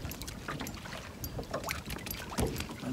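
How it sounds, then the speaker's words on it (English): A motorboat passes on a lake during a fishing trip for suspended white perch, its steady hull and engine wash droning under outdoor breeze with a few water splashes, no talking. "That boat gets by."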